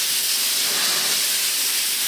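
A compressed air nozzle blowing on a freshly welded thin steel panel during classic car restoration, a loud, steady, close hiss of air lasting the whole moment.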